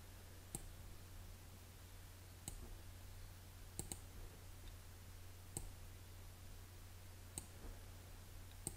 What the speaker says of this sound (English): This time I'll do a single click to give myself a straight corner.